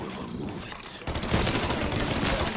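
Gunfire in the Mafia 3 video game, a dense rapid fusillade of shots that grows louder and more continuous partway through, close and harsh, with no talk over it.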